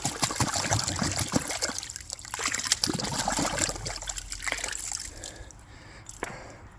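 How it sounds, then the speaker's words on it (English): Water sloshes and gurgles inside an antique glass bottle dug from a Civil War dump site, shaken close up in irregular splashing bursts over several seconds. "Now wash it out. yeah, gratuitous bottle shake."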